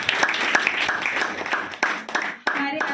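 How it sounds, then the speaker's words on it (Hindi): An audience at an annual day celebration applauds for a guest, with claps that are clear at first and then thin out into scattered separate strikes. Some voices and background noise come through underneath. "तो दीदी के लिए जोरदार तालियां।"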